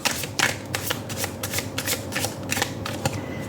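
Tarot cards being shuffled by hand, a steady run of soft riffling flutters and slaps, close and fairly quiet with a faint background hum.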